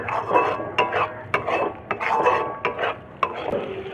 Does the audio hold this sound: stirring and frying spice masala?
yes